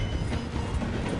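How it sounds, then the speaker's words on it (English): A train in Red Dead Redemption 2 slowing through a station rumbles with dense, rhythmic clickety-clack of wheels over rails, loud and close, with no voices. "The train is slowing down to go through the station."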